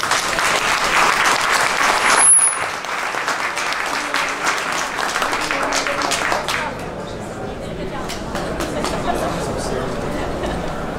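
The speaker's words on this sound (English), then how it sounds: "Big applause for our panels." Loud audience applause for a wearable technology and fashion design panel fills the room, with scattered crowd chatter underneath, easing off to a lighter patter of clapping toward the end.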